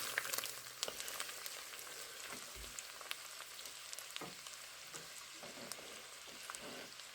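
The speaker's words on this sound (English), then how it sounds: "I've already melted the butter. I'm going to put in the onion." Onion frying in melted butter for a casserole, a quiet, even sizzle with light crackles and a few soft stirring taps, fairly faint and without speech.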